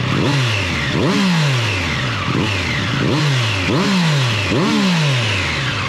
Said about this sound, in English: that is a nice sounding motorcycle